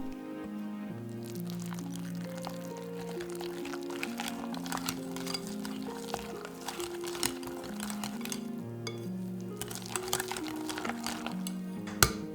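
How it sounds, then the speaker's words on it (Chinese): Cream cheese batter stirred in a bowl, with repeated clinks and scrapes of a utensil against the bowl at an irregular rhythm, heard close under steady background music. "再倒入奶酪糊一起搅拌。"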